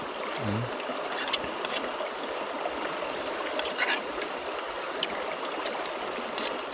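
Creek water runs steadily at night in a rural spot, a continuous soft rushing trickle with no break, heard fairly close and alone, with faint insect-like chirps above it.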